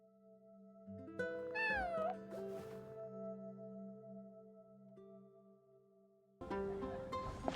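A cat meows in the Genshin Impact video game: one clear, rising-and-falling meow over steady background game music, followed by a brighter burst of game sound near the end.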